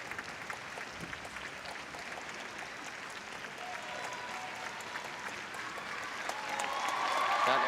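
Crowd applause with scattered cheering at a junior wushu championship, rising to a louder, sustained ovation near the end as the audience spurs on an injured athlete finishing his routine.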